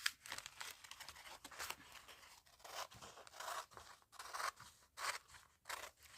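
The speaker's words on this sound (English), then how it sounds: "thinking maybe I'll cut bigger because I don't think I'll cut straight" Scissors cutting cheap covering material from a roll, with repeated close snips and crinkling, rustling sheet sounds in an uneven rhythm, quiet and without speech.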